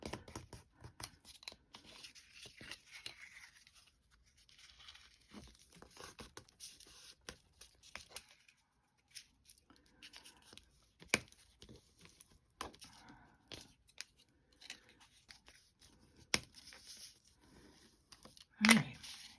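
Paper pieces for a journal cover are folded and handled up close, giving soft scattered crinkles, taps and brief rustles spread over a quiet stretch, with one louder crackle near the end and no talking.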